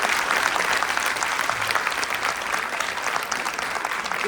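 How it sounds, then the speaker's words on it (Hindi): Steady, dense applause from an audience after a children's team performance of a Ramayana stage show, continuous and even for the full stretch with no voices on top. "एक बार और जोरदार तालियां हो जाए इस टीम के लिए"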